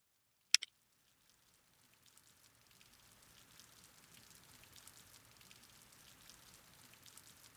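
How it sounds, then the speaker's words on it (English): Rain falls steadily in the visual novel Witch on the Holy Night, a soft, faint patter of drops that swells in gradually after a brief sharp click near the start and continues evenly. "His mind wandered as he listened to the sound of raindrops."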